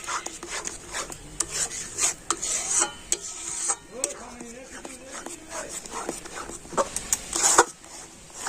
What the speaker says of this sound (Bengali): কিন্তু কন্টিনিউ এইভাবে নাড়তে হবে।